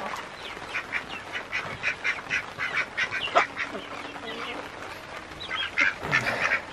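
Ducks quacking repeatedly in a lively, overlapping series at moderate distance, with chickens sharing the yard, the calls continuing steadily throughout with no talk over them.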